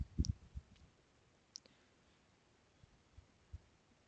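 Faint, sparse clicks from a computer mouse sit over a low steady room hiss, with a few isolated taps spread out and nothing else happening.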